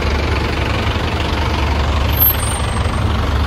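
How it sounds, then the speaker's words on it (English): Dense Nairobi street traffic with heavy truck engines idling and rumbling up close, a steady low drone with knocking diesel texture and a brief hiss near the middle, no voices over it. "So this traffic is crazy."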